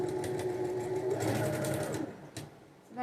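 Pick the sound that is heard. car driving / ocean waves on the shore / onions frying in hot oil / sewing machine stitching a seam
sewing machine stitching a seam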